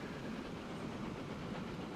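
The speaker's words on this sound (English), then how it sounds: "In fact, here it comes in now, so let's watch this." A train in the video game Transport Fever pulls into a station with a steady, dense rumble of rolling wagons and faint clickety-clack, heard alone at a moderate distance.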